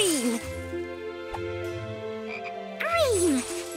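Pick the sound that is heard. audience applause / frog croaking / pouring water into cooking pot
frog croaking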